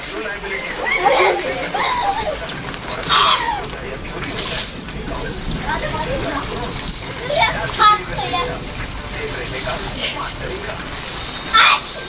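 Water splashes and sloshes on a rooftop during rain while children play in it, irregular splatters close by, mixed with kids' voices and an adult talking over it.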